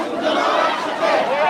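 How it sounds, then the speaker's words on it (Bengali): A street protest march at Dhaka University: a loud, dense crowd of voices chants slogans together in a continuous roar with rising and falling emphasis. "ঢাকা বিশ্ববিদ্যালয়ের মধ্যে তাদের মিছিল যাচ্ছে এবং স্লোগান"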